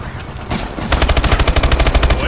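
Rapid automatic gunfire from the video game Call of Duty: Advanced Warfare in a multiplayer match, a dense, loud burst of evenly spaced shots rattling for over a second after a brief lull.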